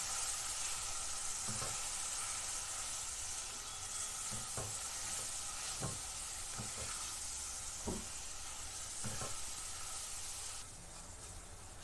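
Spice paste with salt, turmeric and chili powder sautéed for a Bengali katla fish kalia, making a quiet steady hiss and sizzle with occasional spoon scrapes, faint and close, with no speech.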